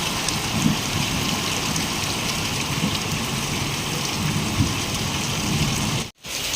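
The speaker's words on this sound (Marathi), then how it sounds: "किती पाऊस आहे बघा" Steady heavy rain hisses and patters continuously at a moderate level, a dense even wash of falling water with no voices.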